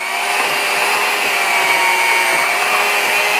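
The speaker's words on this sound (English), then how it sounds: "we're gonna cream it with an electric mixer for about 1 to 2 minutes" An electric mixer creams room-temperature grass-fed butter in a bowl, giving a steady, close, continuous whir that holds at an even level throughout with no talk.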